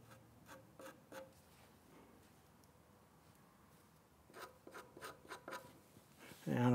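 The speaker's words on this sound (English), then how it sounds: "I'll just use this screwdriver as a spatula, and I'll use it to" A screwdriver serves as a spatula, pressing and spreading wood filler into dents on a Windsor chair being readied for milk paint. It makes faint, close scraping strokes in short bursts, with a quiet pause between them.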